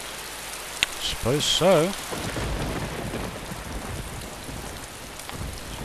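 Steady rain falls in the DayZ video game world as a continuous hiss, with a brief rumble of thunder and a few short voice fragments early on.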